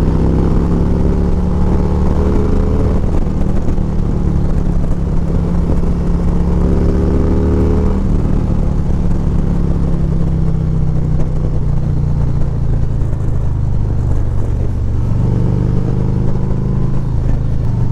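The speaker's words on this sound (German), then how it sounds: "Also das ist krass, wie viele Motorräder wir gerade überholt haben." Harley-Davidson motorcycles riding in a group and overtaking, a loud continuous low engine rumble with wind noise, rising and falling as throttle changes and bikes pass close by.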